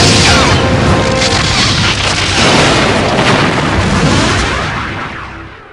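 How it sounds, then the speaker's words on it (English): Heavy booming explosions and weapons fire from a Borg cube in the Star Trek: Borg video game, a loud continuous rumbling barrage with no talking, fading slightly at the end. "The Borg cube is firing."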